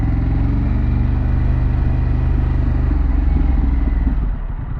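A Harley-Davidson Pan America motorcycle fitted with Vance Hines aftermarket exhaust idles with a loud, close, steady throbbing rumble, easing slightly lower just before the end.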